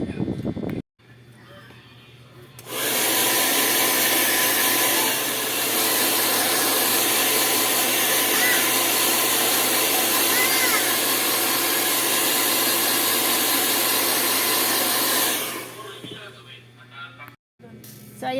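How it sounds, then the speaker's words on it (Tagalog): A hair blow dryer runs on wet, freshly coloured burgundy hair: a loud, steady rushing whoosh that switches on after a moment, holds for about twelve seconds, then cuts off, leaving quiet room noise. "Basa pa yan, blower muna."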